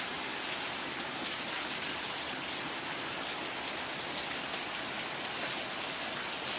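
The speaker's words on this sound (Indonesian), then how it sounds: "Malah hujan." Steady rain pours down outdoors, a dense, even hiss of drops striking surfaces that holds unbroken and fairly loud throughout, with no voices over it.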